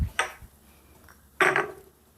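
A knife cuts garlic on a board in a few distinct strokes: one early chop, a pause, then a firmer, louder cut, all close and without talk.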